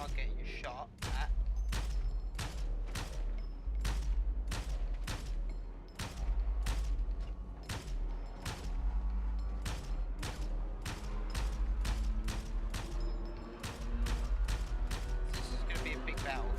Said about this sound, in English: Shot from behind, so we are getting shot at.